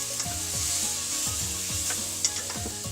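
Tofu fried rice sizzles steadily in a hot pan while a utensil stirs and scrapes it in repeated short strokes, close and crisp, with no talking.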